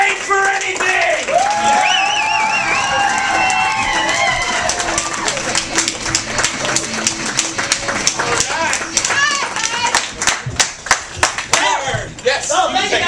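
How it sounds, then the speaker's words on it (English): Live audience at an improv comedy show applauding and cheering for a troupe, steady dense clapping with whoops and shouts throughout, sharper individual claps near the end, a voice speaking over the crowd. "let's keep the applause going"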